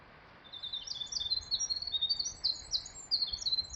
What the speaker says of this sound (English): No sounds of traffic, just the bird calls, and you can hear Coldstream, the flow of the water.